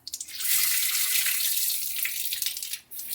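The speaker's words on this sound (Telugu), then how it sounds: "రేషన్ బియ్యం బాగా కడుక్కోవాలి." Ration rice being washed in water gives a steady close-up splash and trickle of running water, hissing continuously with a few brief dips and stirring sloshes toward the end.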